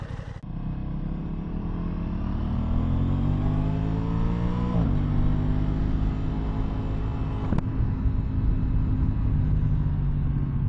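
A 2023 Aprilia Tuono 660 Factory motorcycle riding on the road, its engine droning loud and close, rising through the gears with pitch climbs and drops at each shift.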